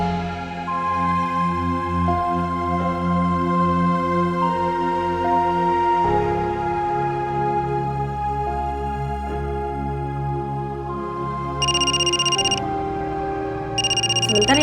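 A telephone rings in two short electronic bursts, the second cut off, while a soft music bed plays steadily underneath and nobody talks.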